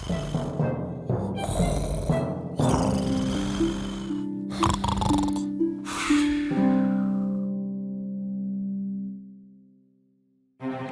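A voice imitates snoring with loud rasping, snorting inhales and drawn-out droning exhales, a few rough cycles before fading to near silence.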